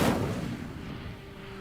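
A fiery burst from the Incendio spell in the Hogwarts Legacy video game, a loud whooshing blast at the start that trails off into a lower rumbling crackle over about a second and a half.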